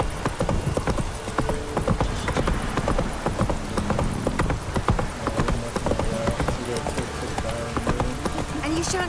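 Close, rhythmic hoofbeats of a horse galloping in the video game The Witcher 3, a rapid clip-clop running throughout under game music and a voice speaking.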